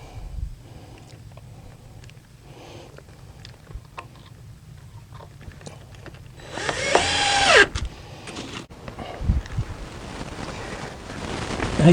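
A drill drives screws into a joist hanger while a deck is built under a shed roof, giving short whirring bursts that build to a louder, sustained run near the middle, with outdoor wind rumble in the background.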